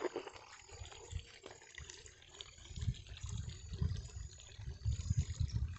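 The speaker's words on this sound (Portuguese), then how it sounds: "Olha a poluição indo tudo pro rio" Polluted sewage water from a water and sewage treatment plant in Mogi Mirim, Brazil, pours into a river, a continuous faint rushing and splashing flow with some louder low surges.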